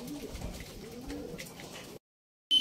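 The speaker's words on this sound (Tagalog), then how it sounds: "May mga dumadaan na, mga kalapatid." Faint cooing of pigeons near a racing pigeon loft during a derby race, soft and low under outdoor ambience, cut off by a brief silence near the end.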